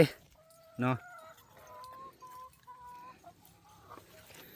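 A hen on a rural farm clucks after laying an egg, a run of short, drawn-out calls repeating at a moderate distance, preceded by a brief knock and a quick spoken word.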